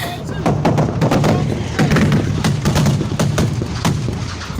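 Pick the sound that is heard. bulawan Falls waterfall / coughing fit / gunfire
gunfire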